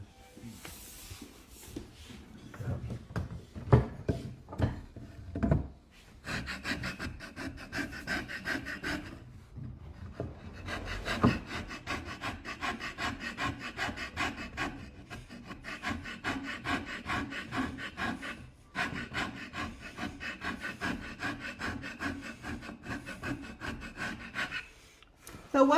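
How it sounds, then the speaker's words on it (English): A rasp files the wooden scroll of a cello in bursts of close, scratchy strokes, with short pauses between passes and some breathing audible. "And we can use a rasp."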